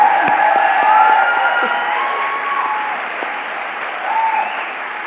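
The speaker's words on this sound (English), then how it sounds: "please stand up again so that you can receive your own applause" An audience at the Africa Freedom Prize award ceremony applauds loudly and continuously, a dense wash of clapping with some faint cheering and tones underneath, easing slightly before swelling again near the end.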